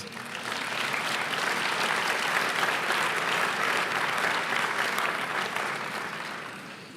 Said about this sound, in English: a round of applause will be good at this particular point